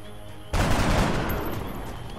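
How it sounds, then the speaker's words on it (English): A shotgun in XCOM: Long War goes off in a single sudden, loud blast after a brief quiet moment, followed by a lingering noisy rumble that slowly tapers off. "let's just take this shot with our shotgun"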